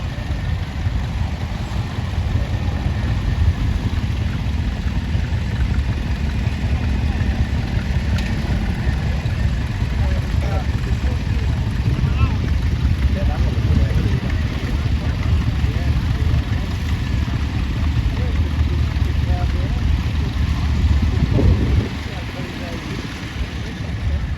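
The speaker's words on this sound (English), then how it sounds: "got the iconic little grey Ferguson just going past us now" A little grey Ferguson tractor rolls past in a ring parade at the Sheffield Steam Fair, its engine a steady, close, low rumble over constant outdoor background noise, easing slightly near the end.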